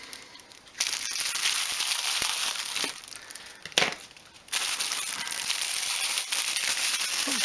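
Plastic bag from a car cleaning kit being opened, loud crinkling and rustling in long bursts with brief pauses between, close up with no talk.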